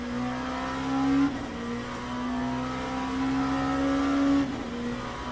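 Race car engines in the Le Mans Ultimate racing game hold a steady tonal drone and rise in pitch twice as the cars accelerate, continuous and fairly loud with no talk.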